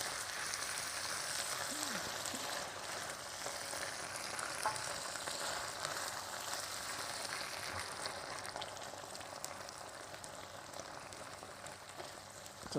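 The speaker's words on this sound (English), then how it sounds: "Just going to stir all this through." Seafood linguine sauce with tomato and Italian spice being stirred in a hot pan, a continuous close sizzle and soft scraping that runs steadily throughout without talk.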